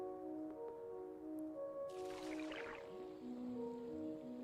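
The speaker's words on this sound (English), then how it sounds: "Drop dry sand in water." Dry sand drops into water in the Sandustry mining game, producing a soft, brief splashing hiss in the middle of the clip over a quiet, steady tonal game music bed.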